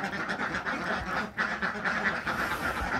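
Laying ducks in a pen quack in a dense, continuous chorus, many birds calling over one another at steady loudness with no voices.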